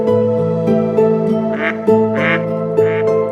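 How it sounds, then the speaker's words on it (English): Mallard duck quacking in a pond or park wetland, a few loud, raspy quacks in a short sequence, close by and clear over a steady background. "Mallard, the most familiar of all ducks."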